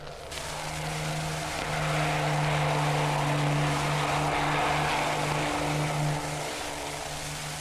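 Steady droning Mosquito aircraft engines hum at a distance, a low sustained tone that swells slightly and fades, with no voices.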